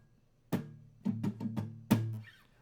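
Acoustic guitar strummed in a simple down-and-up pattern for a song, a handful of separate strokes ringing out clearly at close range, with no talking.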